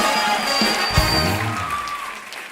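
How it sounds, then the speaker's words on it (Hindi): Studio audience applause on a Hindi TV comedy show, dense clapping throughout with a sharp thump near the one-second mark, tapering off slightly at the end. "एक बार जोरदार तालियां विक्की और सारा के लिए"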